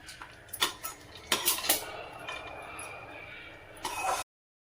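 Roasted seeds are tipped onto a plate, with several sharp clinks and clatters of dishes and a utensil over a quiet kitchen background, the last knock coming just before the sound cuts off.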